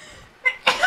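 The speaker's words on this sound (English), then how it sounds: "I'm about to sneeze." A single short sneeze, a brief sharp burst after a quick intake of breath, close and fairly loud.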